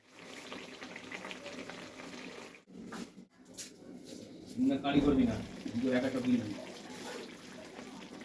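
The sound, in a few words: fish curry boiling in a pot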